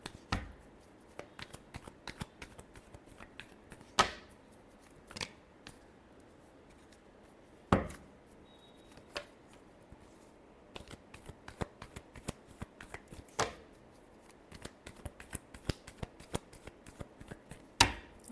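Tarot cards shuffled for a love reading, with soft continuous riffling and sharp snapping bursts of the deck recurring every few seconds, close and alone with no talking.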